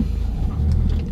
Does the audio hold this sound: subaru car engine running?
yes